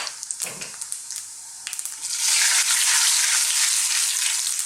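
Fennel seeds and green cardamom hit hot oil for a potato chickpea curry, starting with a few crackles and pops, then swelling into a loud, steady hiss of frying that fills the rest of the time, close and without voices.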